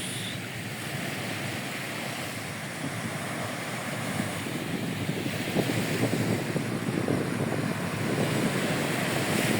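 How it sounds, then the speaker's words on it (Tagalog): Sea waves on the shore at Sipalay City, Negros, a continuous rushing surf that builds slightly, mixed with steady wind noise on the microphone and no voices. "ito na Tolmar yung dagat dito sa aming probinsya sa Negros"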